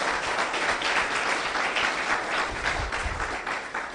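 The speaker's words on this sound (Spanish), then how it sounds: "Démosle un fuerte aplauso al Rey de Reyes y Señor de Señores." Sustained congregation applause fills a church after a pastor's Christmas-season sermon, dense and steady throughout with a slight dip near the end, no voice on top.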